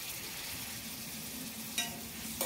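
Onion, crushed garlic and curry leaves frying in a pan, a faint continuous sizzle throughout with a couple of brief stirring scrapes near the end, no voices.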